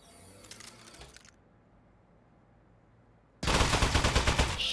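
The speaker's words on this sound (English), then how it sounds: "Presenting the Aperture Science Turret." An Aperture Science Turret in the video game Desk Job opens fire: after faint mechanical rattling and a brief lull, a loud, dense rapid-fire burst of gunshots erupts and continues to the end.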